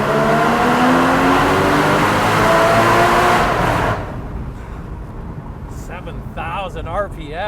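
A Porsche Boxster Spyder engine roars loudly and revs hard for several seconds, then drops to a lower idle rumble with a few brief blips.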